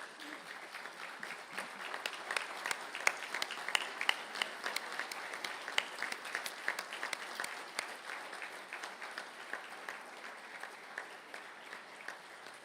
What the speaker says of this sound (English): perhaps give them a round of applause as a thank you